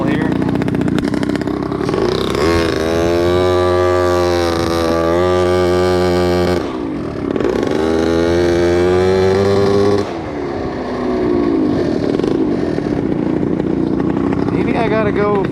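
A tuned 120cc Honda Dio stroker scooter engine being tuned, loud and close, idling with a buzzy two-stroke rasp and rising through sustained revs that sweep up and down, with a brief dip between bursts.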